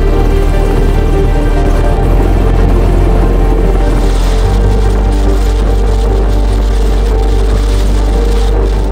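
Military attack and evacuation helicopters roar loudly and steadily nearby as they come in to land on a hilltop, a dense, continuous rotor and engine drone with no talk.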